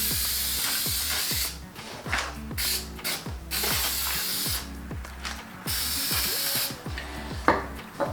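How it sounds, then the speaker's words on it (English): Repeated hissing bursts of aerosol spray adhesive for honeycomb carbon fiber trim alternate with mechanical clicking, close and fairly loud, in an irregular rhythm. "So I put some more spray."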